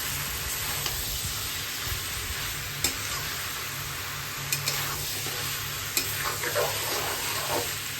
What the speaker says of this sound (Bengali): এবারে চিকেন স্কিনগুলো অ্যাড করে দিয়েছে, এবারে সুন্দর করে নেড়ে চেড়ে দেবে।